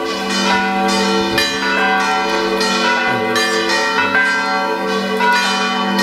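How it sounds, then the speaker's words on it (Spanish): Church bells of Sant Just Desvern ring continuously, several overlapping tones clanging and sustaining in a dense, echoing peal. "Campanas de San Just."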